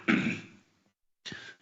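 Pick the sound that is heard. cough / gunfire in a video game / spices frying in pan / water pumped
cough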